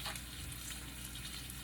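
Broccoli, tomato and onion sizzling while sautéing in a pan, giving a brief, steady hiss of frying with a small clatter near the end and no talk.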